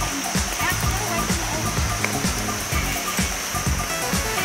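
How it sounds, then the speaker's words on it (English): A waterfall in Springbrook National Park rushes steadily nearby, a broad constant roar with splashing, while people talk briefly over the falling water. "Yeah, that's cool waterfall."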